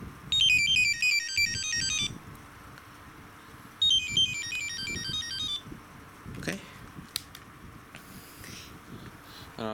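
Motorola phones powering off play their shutdown tones: two bright electronic melodic jingles, each about two seconds, sounding in turn over a low background hum with a few faint clicks after.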